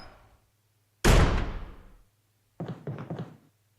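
Double doors in Resident Evil HD Remaster on PS3 open with a heavy thud that rings out and decays, followed by a cluster of quieter knocking thumps, set against a steady low game hum.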